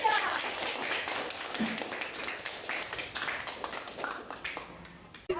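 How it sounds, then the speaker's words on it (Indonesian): A classroom of students claps hands together, a faint, steady patter of many overlapping claps running throughout at low volume. "Oke, tepuk tangan dulu."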